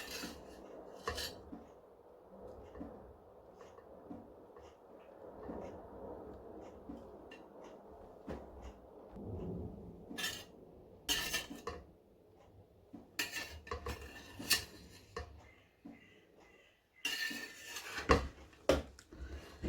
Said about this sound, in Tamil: இப்போ எங்களோட பிரியாணியை நான் பிரட்டி மிக்ஸ் பண்ணி பார்ப்போம்.